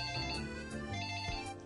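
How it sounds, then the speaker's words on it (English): A phone ringing in a room, a tonal electronic ringtone cycling steadily and moderately loud with no talk. "Oh, that's my phone."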